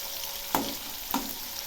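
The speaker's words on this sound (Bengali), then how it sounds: "এই মাছগুলো হালকা করে ভেজে নেব।" Lightly frying fish crackle and sizzle in oil in a wok, a steady close hiss broken by two distinct scraping knocks of a utensil against the pan.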